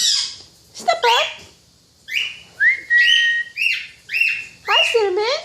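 A pet parrot whistles, squawks and makes talk-like calls mimicking a human phrase, in close, loud bursts separated by short pauses.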